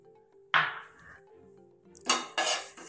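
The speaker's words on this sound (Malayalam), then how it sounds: "ഈ പാത്രം ചൂടായാൽ നമുക്ക് ഇതിലേക്ക് ഒരു സ്പൂണ് ഉലുവ ചേർക്കാം." A spoonful of fenugreek seeds tipped into a hot pan gives a sharp metallic clink, a pause with faint rattling, then a burst of scattering, crackling seeds against the metal, close and fairly loud.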